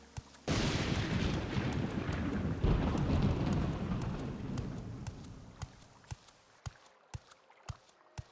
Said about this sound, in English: The rain just turned off.